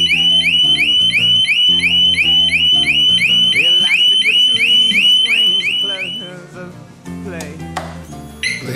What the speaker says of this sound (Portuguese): Fica em alarme.